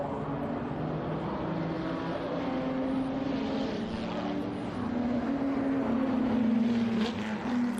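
A 1955 Chevrolet Mistral race car runs on the Laguna Seca track during a race-day event. Its engine gives a steady, rumbling drone that swells slightly toward the end, while a commentator talks over it.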